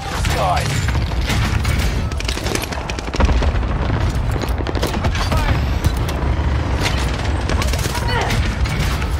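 A rocket explodes in a military shooter video game amid a loud, continuous din of combat, with booming blasts and rattling gunfire layered over one another throughout.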